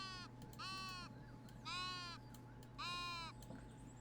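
Sheep bleating in a video game: three drawn-out, nasal bleats spaced about a second apart over a steady low electronic hum.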